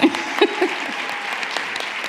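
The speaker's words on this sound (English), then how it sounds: "let's give a round of applause for Michigan's students" Audience applause at an education conference for Michigan's students, a brief steady patter of many hands with a few louder voices rising over it.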